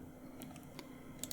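A few soft, quick keystrokes tap on a computer keyboard during Python coding, irregular and close, over a faint steady hum with no talking.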